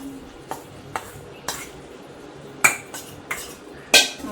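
A spoon stirring sesame barfi mixture into thick sugar syrup in a pan, with repeated scraping clinks against the metal pan at a steady rhythm, close and fairly quiet, without speech.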